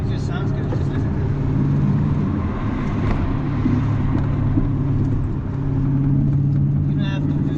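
A Chevrolet Corvette C6 with a manual gearbox burbles with a deep, steady exhaust rumble at close range, a low continuous drone while someone talks over it.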